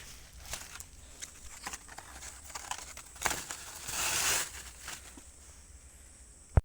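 Dry forest leaves are tossed and spread over an underground shelter at a camp, making close crinkling and rustling bursts, scattered and uneven, with a longer crackling swell near the end and no speech.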